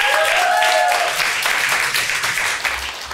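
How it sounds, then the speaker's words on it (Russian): A studio audience bursts into loud, dense applause that stays full for a couple of seconds, then thins and tapers off toward the end. "Аплодисменты!"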